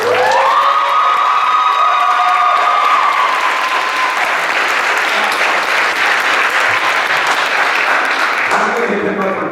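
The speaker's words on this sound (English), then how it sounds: "so we can give him a round of applause" Audience at a moustache debate gives Dr. Kelly a loud round of applause with cheering and a few whoops, sustained dense clapping throughout, with some voices shouting over it near the end.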